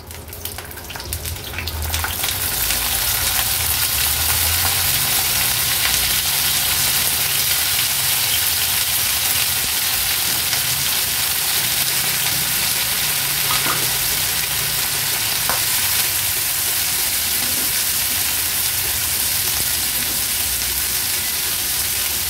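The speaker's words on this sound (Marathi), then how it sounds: "आता हाय फ्लेमवर ह्या सर्व भाज्या ज्या आपण साफ करून धुवून पुसून घेतल्या आहेत त्या तेलावर थोड्या परतून घ्यायच्या आहेत" Cleaned vegetables stir-frying in oil over a high flame for a Maharashtrian thali, a loud continuous sizzle and hiss that holds steady, with a few faint clinks early on.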